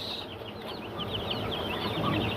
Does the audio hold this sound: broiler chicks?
yes